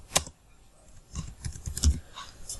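Keys clatter on a computer keyboard during spreadsheet work, scattered clicks in short irregular bursts with pauses between, close and fairly quiet.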